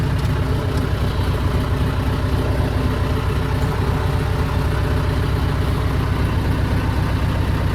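An old farm tractor's engine idles nearby in a steady, even low chug that holds unchanged for several seconds, with no talk over it.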